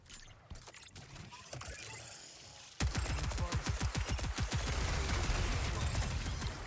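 Rockets and flak fire in the Marathon video game: a quieter stretch of scattered shots gives way to a dense, loud run of rapid rocket blasts that continues to the end.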